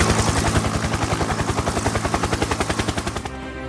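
A helicopter waiting to carry the Prime Minister at Bhopal thunders nearby, its rotor blades chopping in a loud rapid pulse that fades sharply near the end.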